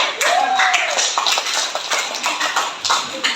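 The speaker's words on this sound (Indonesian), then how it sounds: "Kita berikan aplaus untuk kelompok." Classroom applause for a discussion group, a steady patter of many hands clapping throughout, fairly close, with a voice speaking over it near the start.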